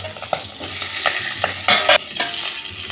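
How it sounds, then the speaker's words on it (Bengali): A boal fish head fries in very hot mustard oil in a kadai, giving a continuous close sizzle broken by several louder crackling bursts and scraping stirs. "এবার আমি এই বোয়াল মাছের মাথাটা ভেজে নেব।"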